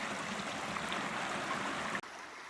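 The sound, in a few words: creek water flowing at San Ysidro Creek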